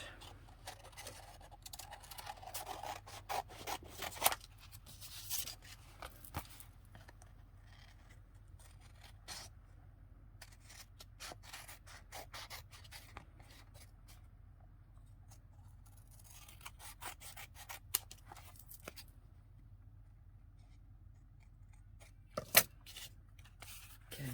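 Scissors cutting out paper pieces while making a winter booklet from a playing card, with repeated short snips and scraping cuts scattered across a quiet room, close and fairly faint.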